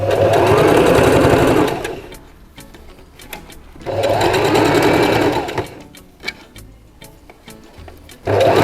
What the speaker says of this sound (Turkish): İki tarafı boydan boya overlock çekiyoruz.